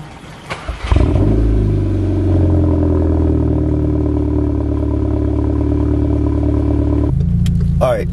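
A Volkswagen MK6 GTI engine cold-starts after a few faint clicks. It catches quickly with a loud rumble and settles into a steady, droning idle that eases lower near the end.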